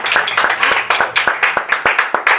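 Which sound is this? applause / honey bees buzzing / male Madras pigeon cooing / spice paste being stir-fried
applause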